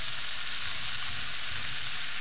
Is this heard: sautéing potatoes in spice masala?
yes